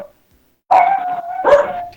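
A single dog gives a couple of sharp, close barks with a yelping edge, heard alone after a moment of silence.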